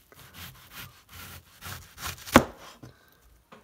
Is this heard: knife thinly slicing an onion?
yes